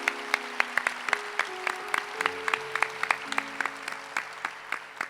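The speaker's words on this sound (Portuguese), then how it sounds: "Vamos aplaudir nosso Senhor Jesus Cristo" A church congregation claps during a Catholic service led by a priest, uneven individual claps ringing out over sustained keyboard or organ tones for about five seconds.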